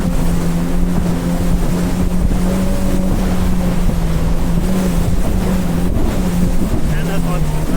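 Big ocean waves slap and rush around a 2024 Yamaha VX Cruiser personal watercraft riding offshore near Sanibel Island, Florida, with a steady loud engine drone and wind buffeting throughout.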